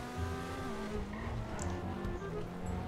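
A fast car in the GTA V video game races along with a steady roaring engine and rushing road noise, fairly faint and continuous, with no talking.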